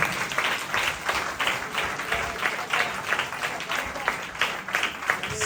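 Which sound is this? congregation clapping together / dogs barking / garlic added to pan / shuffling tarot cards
congregation clapping together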